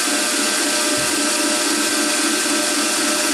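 A grinder hollow-grinds a knife blade after heat treatment in a loud, constant high-pitched whir with a steady rough grinding hiss, pressure held toward the spine throughout.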